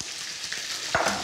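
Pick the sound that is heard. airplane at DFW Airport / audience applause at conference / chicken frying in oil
chicken frying in oil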